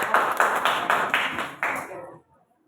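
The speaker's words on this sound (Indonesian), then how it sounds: "Tepuk tangan semuanya." A small group in a classroom claps in rhythmic bursts after a group presentation, about half a dozen loud beats in unison, then the clapping fades out to silence.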